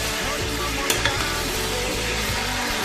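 Chicken thighs fry in hot oil in a pan with a loud, constant sizzle close by and a couple of brief clinks partway through.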